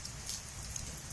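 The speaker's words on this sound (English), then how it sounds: "This is the fun rain." Heavy monsoon rain falling in India, a brief, steady hiss of pattering drops heard alone, faint and continuous.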